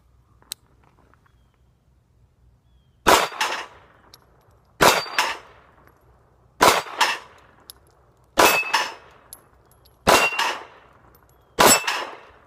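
Six sharp metallic clangs of SIG Sauer P238 pistol rounds striking steel targets, spaced roughly evenly about every second and a half after a quiet stretch, each impact ringing out briefly and decaying.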